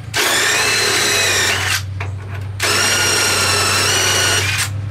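A power drill or impact tool runs in two loud bursts with a short pause between them, steady high whine and a low hum, backing out a shock absorber bolt on a VW Bus.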